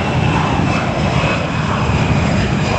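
A fixed-wing airplane roars past the LAX runway, its engine noise loud, broad and steady throughout, close and overhead with no talking.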